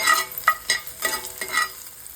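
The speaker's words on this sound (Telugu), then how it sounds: "అలాగే పక్కన పోపు కూడా పెట్టాను" A tempering of seeds, curry leaves and dry red chillies fries in hot oil, with close, sharp crackles and stir scrapes in an uneven rhythm of about five bursts over two seconds.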